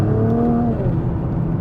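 A 2020 Nissan GT-R 50th Anniversary engine pulls steadily while driving, with rising harmonic tones that then settle into a smooth, moderately loud drone heard close up from inside the car.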